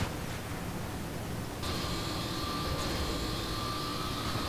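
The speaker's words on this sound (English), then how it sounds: "You got a chopper now." Steady helicopter rotor and engine drone in the video game Saints Row The Third, a broad even whir that gains a sharper high whine partway through.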